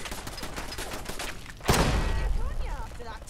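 Gunfire in Fallout London comes from a rapid volley of sharp shots followed by a heavy booming blast that rings on, under someone talking over game sounds.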